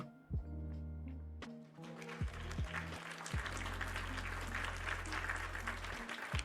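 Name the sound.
speaker applauding himself after finishing build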